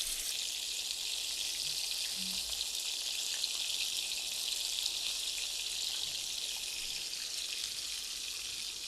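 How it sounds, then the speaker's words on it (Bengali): Pangas fish frying in oil in a pan, a steady, bright, rain-like sizzle running continuously without pause, close and even, with no talk over it. "এটা আমি ভেজে নিব"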